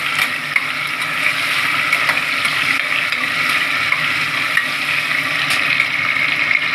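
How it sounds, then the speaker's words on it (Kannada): Chopped tomato fries in hot oil for a soybean biryani, giving a loud, steady sizzling hiss close up that runs unbroken throughout with faint stirring scrapes and no speech. "ಎಣ್ಣೆಗೆ ಟೊಮೊಟೊ ಹಾಕ್ತಿದ್ದೀನಿ. ಇದನ್ನು ಚೆನ್ನಾಗಿ ಎಣ್ಣೆಗೊಂದು 20 ಸೆಕೆಂಡ್ ಫ್ರೈ ಮಾಡಬೇಕು"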